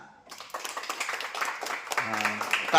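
Children at a home welcome celebration for a newborn clap in a quick burst of scattered claps for about two seconds, mixed with voices talking.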